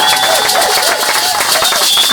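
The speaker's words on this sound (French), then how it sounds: "J'aimerais entendre des acclamations, des cris de joie, des soufflets dans la présence de Dieu." A church congregation cheers, claps and shouts for joy in a loud, continuous crowd roar that holds steady throughout.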